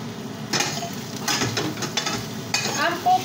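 Chow mein noodles stir-fried in a pan, a steady close sizzle broken by scraping and tossing strokes and a few utensil clinks against the metal.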